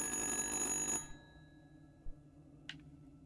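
An old rotary dial phone in the video game Little Hope gives a bright, shrill bell ring for about a second and stops, followed by quiet room tone and a couple of faint clicks.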